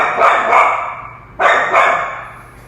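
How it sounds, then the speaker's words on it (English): A dog barking nearby, two pairs of loud sharp barks separated by a short pause, with no talking over them. "And a barking dog in the middle of my video."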